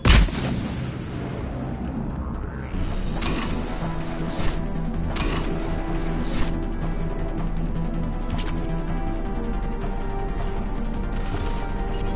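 Mass Effect 3 gunfire, with an initial heavy boom followed by repeated shots and impacts over a constant roar of battle and engine-like rumble.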